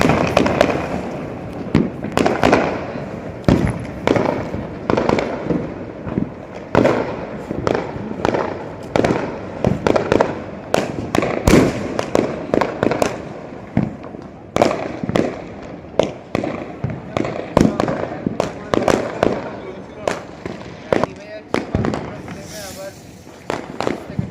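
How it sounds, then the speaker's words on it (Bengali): Diwali firecrackers, including strings of rope crackers, burst in rapid irregular volleys of loud bangs and pops across the whole stretch, with people talking in between. "চিন্ময় আমার ছেলে এরা সব বাজি ফাটাচ্ছে"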